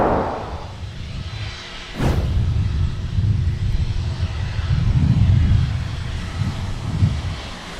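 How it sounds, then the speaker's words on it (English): An MD-95 airliner touching down at Minneapolis–St. Paul Airport, a steady distant engine roar and rumble with a brief whoosh at touchdown, swelling slightly as the jet rolls out. "Very smooth touchdown with the MD-95."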